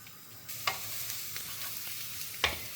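Shrimp pasta sauce with garlic stirred in a pan, a steady frying hiss under two sharp scrapes of the utensil against the pan, close and moderately loud.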